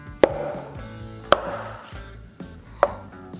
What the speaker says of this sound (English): then we're going to start slicing them in half